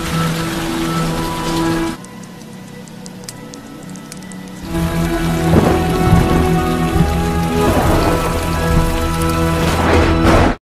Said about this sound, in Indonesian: tiba-tiba saja hujan turun sangat deras disertai badai